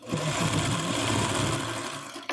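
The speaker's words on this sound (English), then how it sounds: "the final row starts to get sewn on" A sewing machine stitching the final row of a quilt runs in one steady, close, continuous whir before stopping with a brief clunk.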